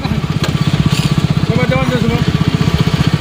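A motorcycle engine runs close by at idle, thumping in a fast, steady rhythm throughout, while a voice briefly speaks over it partway through.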